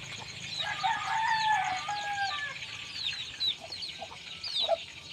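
Chickens cluck and a rooster crows in a rural morning yard in the countryside, several overlapping calls at moderate distance with soft background ambience and no speech.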